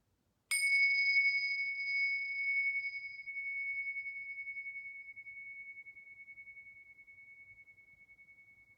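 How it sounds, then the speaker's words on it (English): A meditation bell is struck once and rings on in a clear, pure tone that slowly fades over several seconds in otherwise quiet surroundings. "tuning into the sound of the bells"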